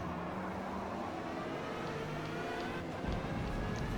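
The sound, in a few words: BMW M8 GTE race car engine in Forza video game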